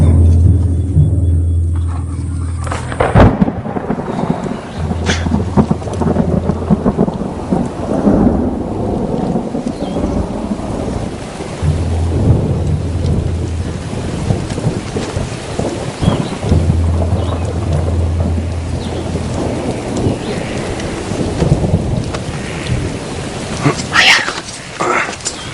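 Heavy rain with rolling thunder, loud rumbles recurring across the whole stretch, a steady wash of rain on surfaces beneath, and a voice speaking over the storm.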